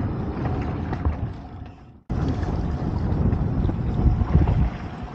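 Strong wind buffeting a fishing boat out at sea during spider crab season, a loud rumbling roar over the microphone with a brief drop-out near the middle, then steady gusty noise again, no voices.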